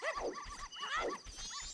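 Dogs barking during the dog race in the Majora's Mask video game, several short yelping barks in quick succession over a steady high electronic tone and game music.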